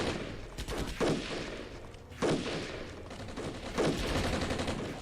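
Gunfire from soldiers in the Armored Brigade video game: sharp, distant bursts of rifle and machine-gun fire crackling steadily, with louder volleys recurring every second or so over a constant battle rumble.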